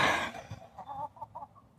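Several short clucks from chickens follow a louder burst at the start, spaced irregularly and moderately close.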